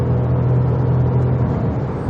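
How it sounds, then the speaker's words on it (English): A Toyota Yaris GR Sport engine pulls as the car gathers speed on the road, giving a loud, steady rumbling drone heard from inside the cabin with no talk over it. "Listen to that engine."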